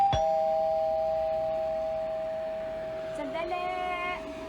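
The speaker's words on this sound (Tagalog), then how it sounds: "Ito, doorbell ko." Doorbell rings with one sustained electronic chime tone that slowly fades, followed by faint voices and a further soft chime at the end.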